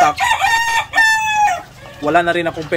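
A white barred rock chicken crows and clucks up close, with two loud stretched crowing calls followed by a burst of clucking, no talking.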